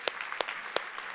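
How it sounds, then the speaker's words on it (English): Congregation clapping at a church service, heard as a few distinct sharp claps over a low wash of further applause, brief and fairly close. "Give them a big, big clap"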